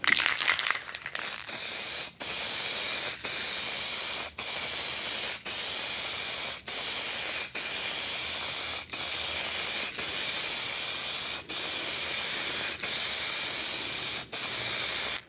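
An aerosol can sprays a metallic paint coat onto a car body panel in a long series of steady hissing bursts, each a second or so, separated by brief regular pauses, close and fairly loud.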